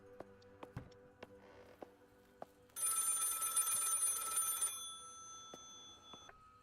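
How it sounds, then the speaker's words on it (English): A telephone bell rings in one sustained burst of about two seconds, bright and fairly loud, with a long lingering tone afterward and scattered clicks and taps before and after. "I hear a phone. Y'all hear that?"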